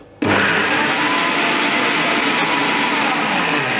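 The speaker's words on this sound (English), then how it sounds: "Turn on the blender. I'll pulse initially" A kitchen blender whirring through cream starts abruptly and then roars at a loud, steady pitch right up close.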